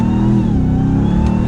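A 2021 RAM 1500 TRX truck engine pulls hard as the heavy pickup accelerates to the speed limit, a loud, deep, steady roar with rising harmonics heard from the cabin, no talk.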